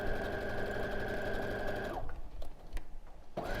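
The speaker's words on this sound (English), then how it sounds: "And then I can sew that seam." A quilting sewing machine runs a quarter-inch seam in a fast, steady whir for two seconds, stops briefly amid small clicks and handling sounds, then starts stitching again near the end.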